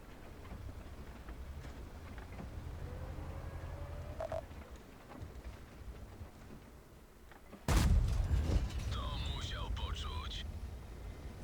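A single loud gunshot rings out in a video game, breaking sharply over a quiet game soundscape after a stretch of murmured talk, followed by mechanical rattling and warbling tones.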